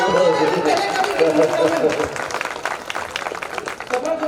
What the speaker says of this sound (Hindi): तालियां आपकी